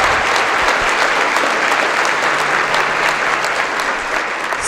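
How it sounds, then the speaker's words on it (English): A breakfast event audience breaks into steady, dense applause that holds at full strength from start to finish, with many hands clapping together and no voice over it. "just a round of applause, just real quick off the top for her"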